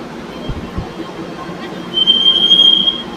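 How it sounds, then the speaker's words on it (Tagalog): An MRT metro train in Manila, packed full, rumbles past close by near Ayala, its wheels letting out a sustained high-pitched squeal over the steady roar of the cars. "Ayun yung MRT guys, punong-puno oh."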